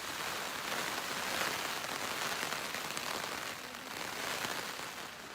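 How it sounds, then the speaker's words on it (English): Heavy rain pours steadily onto a small tent on the Pacific Crest Trail, a dense, continuous patter with no pauses and no voices. "It is pouring rain right now."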